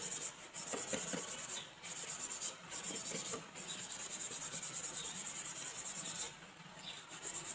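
Close, steady scratchy sanding strokes on a PVC toy gun housing part, a continuous rasping rub with brief pauses between passes, moderately faint and with no talk.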